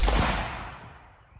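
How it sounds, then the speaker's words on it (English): Single loud gunshot from a snubnose revolver firing Fiocchi Covert-X 125 grain .38 Special +P jacketed hollow point ammunition, a sharp crack with a decaying reverberant tail, heard alone. "I'm going to shoot the Fiocchis, again from 6 feet back."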